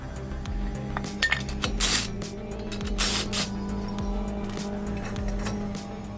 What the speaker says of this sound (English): wash those nasty wheels and tires on the inside